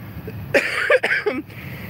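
A few short coughs and throat clears from one person, close and dry, bunched into a quick burst of three or four.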